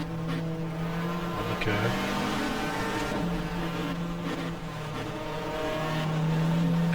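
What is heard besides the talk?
race car engine in GTR2 video game at Winton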